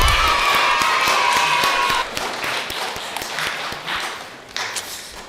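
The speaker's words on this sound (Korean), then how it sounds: "고생한 우리 모두를 위해서 박수 한번 칠까요?" A church congregation at a Sunday Mass claps together in a sustained, dense round of applause that fades slightly partway through, with a few scattered voices and taps mixed in.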